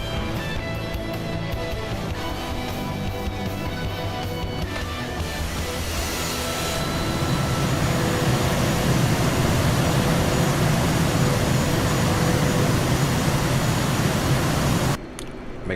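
An aircraft taxiing on the ground gives a steady, broadband engine roar and hum that swells louder partway through and stays constant, with no talk over it.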